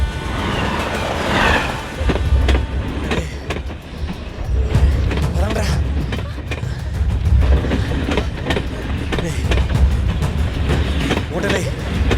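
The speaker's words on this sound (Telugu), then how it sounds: "ఎక్కడో ట్రైన్ చూడండి వినిపిస్తుందిరా." A train passes with a continuous low rumble and rhythmic rattling clatter of wheels and cars at middle distance, steady throughout, with people talking over it.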